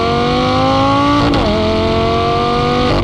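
A Lamborghini Gallardo Performante engine revs loud and close, pitch climbing steadily, then drops sharply at an upshift around the midpoint and climbs again toward a second shift near the end.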